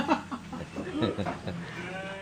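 Six-month-old goats bleating on a goat farm, faint scattered calls in the background beneath a person talking.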